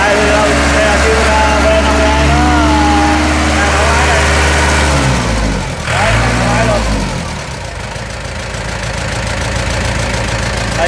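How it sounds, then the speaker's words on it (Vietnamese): Shibaura four-cylinder diesel tractor engine idling steadily and close up, a low even rumble with a faint knock that briefly dips and shifts partway through before settling again. "con xe máy đang nổ rất là im luôn"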